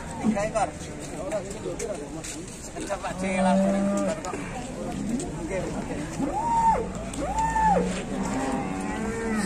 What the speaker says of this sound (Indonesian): Sapi PO besar